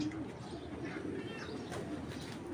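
A red checker racing pigeon coos softly, a low continuous murmur close by with faint chirps and rustling in the background.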